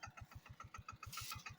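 Farm tractor engine chugging in an even, fast beat nearby as it moves off across a millet field, with a short burst of hiss partway through.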